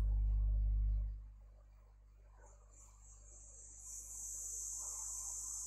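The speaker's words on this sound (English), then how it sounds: "They're crickets and" Crickets chirp at night outdoors, a steady high-pitched trill that starts faintly and swells into a continuous, fairly loud chorus over the last few seconds, after a brief low rumble at the start.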